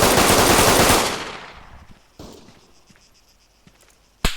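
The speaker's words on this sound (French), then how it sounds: "Je peux rien courir du tout, je prends des balles." Loud sustained burst of rapid automatic gunfire in the Arma III video game, dense for about a second then trailing off, followed by a few scattered single shots, one sharp and close near the end.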